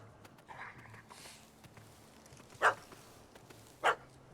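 A dog in The Witcher 3 gives two sharp barks a little over a second apart, moderately close, over quiet ambient game sound.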